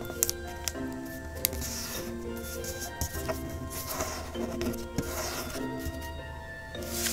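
Paper being folded for a three-pointed origami ninja star, with soft rubbing and creasing rustles close by, steady over several seconds with small crisp taps, no talking.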